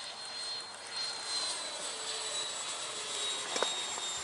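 A radio-controlled T-33 model with an 80mm electric ducted fan jet flies overhead, heard as a faint, steady whooshing whine with a thin high tone, and no voices.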